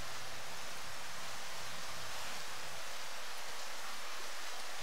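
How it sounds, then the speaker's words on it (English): Rain splash effect in a video game level, a constant broadband hiss of falling rain, steady and moderately loud with no other sounds. "I kind of added rain splashes like this"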